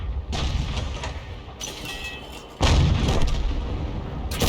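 A leFH18B2 artillery gun fires in World of Tanks: a heavy boom lands partway through, its roar hanging over a steady engine rumble, with a sharper burst of noise earlier.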